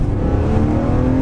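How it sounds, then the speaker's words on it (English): A high-mileage BMW E46 M3 with an SMG automated gearbox pulls away, its engine a loud, close, steady drone with a rising tone over a brief moment. "as you pull away, the clutch engages perfectly"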